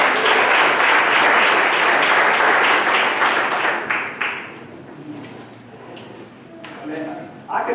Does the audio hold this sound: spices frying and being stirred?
no